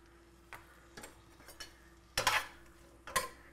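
A spoon stirring black pepper seasoning into a pot roast knocks against the pot in a few sharp, separate clinks and scrapes, quiet and close, growing louder toward the end, with no talking.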